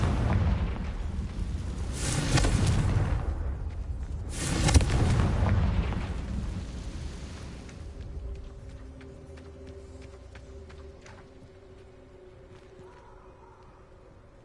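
Two loud, rumbling bursts of the Confringo fire spell in Hogwarts Legacy roar out in quick succession, the second with a sharp crack, then fade into a quieter hum and faint ticking.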